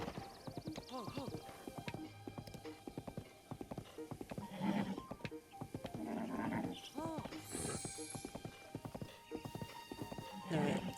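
Horse hooves clip-clopping in the video game Breath of the Wild, a steady trotting rhythm with a whinny, heard under someone talking over the gameplay.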